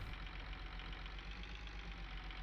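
A tractor engine in Farming Simulator 19 idles steadily after restarting, a continuous low rumble with a faint knocking pulse, close and even throughout.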